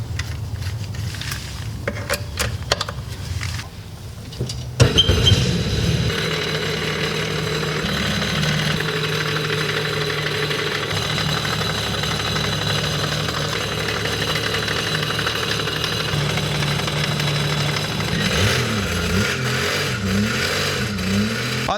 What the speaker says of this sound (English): So we're going to run the engine for like a minute using a garden hose and antifreeze.